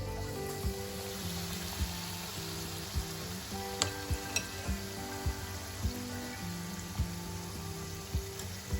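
Four vada pav potato fritters frying in hot oil, a steady dense sizzle with small crackling pops recurring at roughly even intervals, close and fairly quiet, with no talk.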